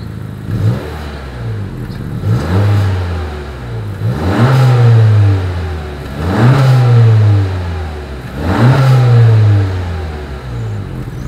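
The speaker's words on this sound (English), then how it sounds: "As always, here is that exhaust clip." A 2020 Honda Accord sedan exhaust revs repeatedly, rising to a loud roar and falling back about every two seconds, four or five revs in a row, close by.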